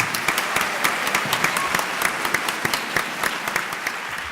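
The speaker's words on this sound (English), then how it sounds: "Let's welcome Mr. Lee Kien-truk with a warm applause." Warm audience applause welcoming Mr. Lee Kien-truk at a poetry book launch evening, steady dense clapping with individual sharp claps standing out, moderately loud and continuous.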